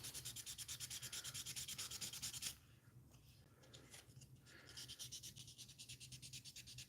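Hand sanding on a 1/60 NeoGrade Sazabi plastic model kit gives a rhythmic, quick back-and-forth scratchy rasp, close and fairly soft, pausing midway before the strokes resume.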